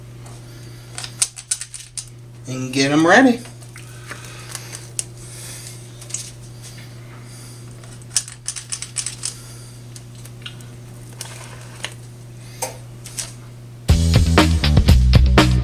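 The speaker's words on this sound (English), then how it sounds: "it's time to use our handy dandy cookie scoop, and we're just going to scoop each of these onto some parchment paper" A cookie scoop working red velvet dough onto parchment paper, giving repeated small clicks and scraping taps near at hand, with a hum beneath and a short spoken phrase late on.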